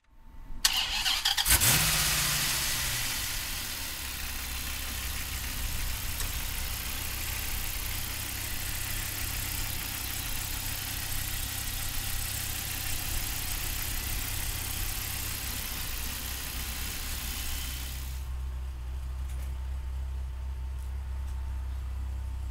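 A 2008 Dodge Viper fires up with a sharp starter crank and loud catch, then settles into a steady, deep, rumbling idle close to the microphone, the tone dropping slightly near the end.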